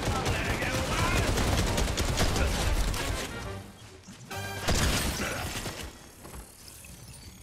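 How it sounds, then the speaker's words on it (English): Gunfire in the video game Fortnite crackles in dense rapid bursts, loud at first, fading briefly, then returning in a second volley before tailing off, with voices mixed in. "They're shooting up at us."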